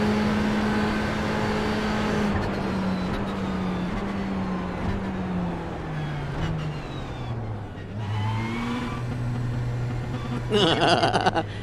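iRacing race car engine running nearly out of fuel, a steady near drone whose pitch sags and wavers as it coughs and loses power, then a rougher burst near the end.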